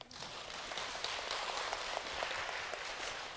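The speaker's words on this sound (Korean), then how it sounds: "이럴 때 잠 깨라고 박수 한번 해주세요." Congregation applause in a church during a Sunday sermon, a steady dense wash of many hands clapping at once, fairly even in loudness for the whole stretch, with no talk over it.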